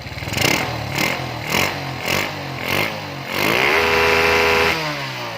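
A small motorcycle engine with a stock, untuned carburetor is blipped several times in quick bursts, then held at high revs against the limiter, loud and close.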